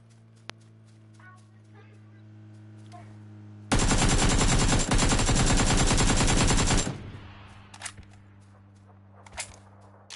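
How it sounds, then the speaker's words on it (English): A sustained, loud burst of rapid automatic gunfire in PUBG lasts about three seconds, cutting off abruptly over a quiet background hum, with a few faint thumps afterward. "That was me shooting at them."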